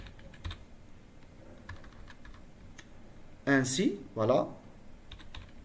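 Fast, light clicking of typing on a computer keyboard, steady and close in a quiet room, with a short burst of French speech partway through.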